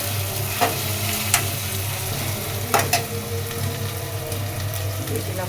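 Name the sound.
frying onion with ginger garlic paste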